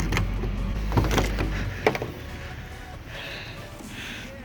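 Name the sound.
Jeep Wrangler car door being opened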